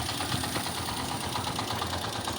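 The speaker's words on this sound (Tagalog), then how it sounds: "gumagana na yung ating LiPo sa ating motor" A motorbike engine running on a LiFePO4 lithium battery hums steadily and close by, with a continuous mechanical whir and no pauses.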